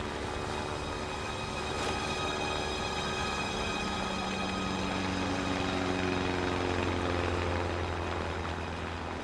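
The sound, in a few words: airplane approaching a man lost at sea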